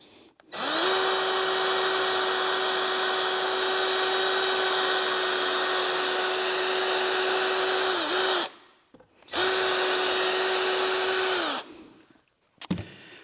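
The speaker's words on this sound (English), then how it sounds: "So I'm just going to pre-drill some holes." A power drill pre-drills holes in melamine for a workshop jig, running in two long steady high-pitched whines separated by a short pause, close and loud with no talk.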